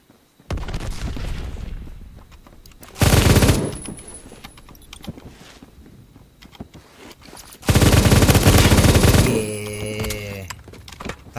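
Gunfire in the first-person shooter Phantom Forces: two loud sustained bursts of rapid automatic fire stand out against quieter game noise, the second followed by a ringing metallic tail.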